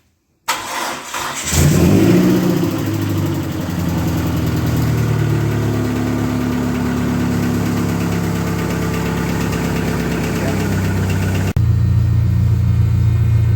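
A Dodge Daytona stock car engine cranks, catches and roars to life, then settles into a loud steady idle with a rough throb, close by.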